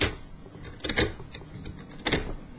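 Sterling cam lock being raked open with a pick, a close series of quick metallic clicks and rattles, with a few louder bursts among lighter scraping ticks.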